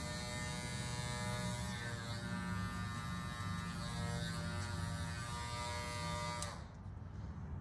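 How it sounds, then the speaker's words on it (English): Electric hair clippers run freehand through a skin fade haircut, giving a close, steady high-pitched buzz with a strong hum that continues evenly, then cuts out sharply near the end. "Clipper open, and just freehand, using that corner again."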